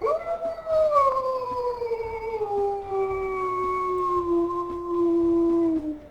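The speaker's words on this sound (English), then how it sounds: "As for her howl here too, we have this one." A wolf in the video game WolfQuest gives one long, clear howl that starts slightly higher and slides gradually lower, holding for about five seconds before fading out alone.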